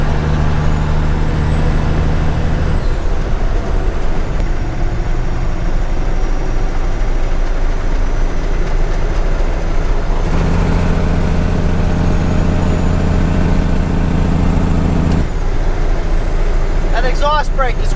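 A 10-wheeler dump truck's diesel engine pulls steadily in 8th gear, a loud continuous low drone heard from inside the cab, with a shift break partway through, a second steady stretch, and a brief air-brake hiss near the end; a voice talks intermittently over it.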